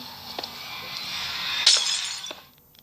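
Glassy shattering and crackling noise as a portal is destroyed in Minecraft Pocket Edition swells to a sharp break, with a few small clinks before it fades out, close and alone.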